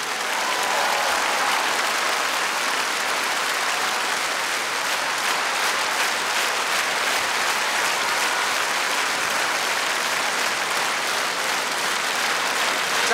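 A theatre audience greets Soviet People's Artist Vladimir Zeldin with loud, sustained applause, an even roar of many hands clapping for about thirteen seconds without letup.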